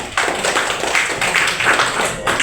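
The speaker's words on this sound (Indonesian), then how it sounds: "Ya, tepuk tangan" Students clap together in a classroom during a lesson on inter-island trade, a steady dense patter of hands lasting a couple of seconds at close range.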